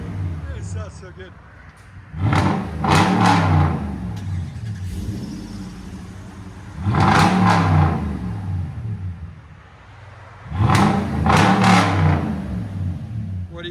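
A 2016 Toyota Tundra 5.7L V8 with Flowmaster Super 10 true dual exhaust revs hard three times, each burst swelling loud and throaty before dropping back to a rumbling idle.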